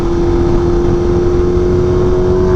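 A Kawasaki Ninja H2 motorcycle drones at a steady, even engine pitch while cruising through freeway traffic, loud and close with constant road and wind noise underneath.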